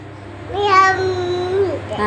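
A voice imitates a cat's meow, one drawn-out rising and falling call lasting over a second, close and fairly loud, with an adult nearby coaxing animal sounds from the child.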